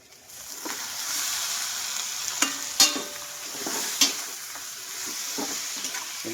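Pork pata hits a hot pan and sizzles steadily, with a few sharp clatters and stirring scrapes of the utensil against the pan rising above the frying hiss.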